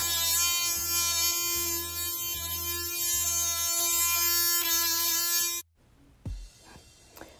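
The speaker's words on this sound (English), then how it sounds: "I've lightly sanded my furniture with my 220 grit sandpaper." A primed dresser is sanded with 220 grit sandpaper, making a steady, close buzzing drone for over five seconds that then cuts off, followed by a few soft knocks.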